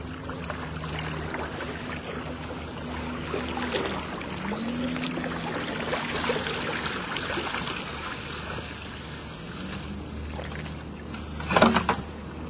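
A lake rake drags back through lake water and bottom weeds, giving a continuous, moderately loud swishing and sloshing with a brief splashy surge near the end.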